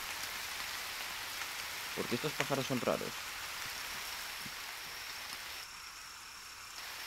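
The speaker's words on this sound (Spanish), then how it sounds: "se ha puesto a llover por casualidad" Rain falling in the survival video game The Forest, a steady even hiss throughout, while someone speaks briefly over it partway through.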